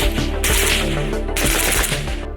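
Zastava M90 5.56 rifle firing in two loud close bursts of rapid shots separated by a short pause, with sharp echoing cracks.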